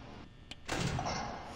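Doors slam shut inside the Five Nights at Freddy's map in the Rec Room video game: a short thud at about half a second, then a heavier bang at 0.7 seconds followed by a lingering rumble and game ambience.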